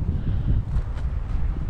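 Strong wind blowing outdoors at a horse stable, a steady low rumbling buffet against the microphone with faint rustling on top, no talking.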